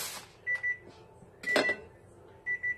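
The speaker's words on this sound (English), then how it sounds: "I'm going to turn off the timer." A kitchen timer beeps as tater tots finish cooking, three pairs of short high electronic beeps spaced about a second apart, fairly faint, with a clatter of kitchen handling among them.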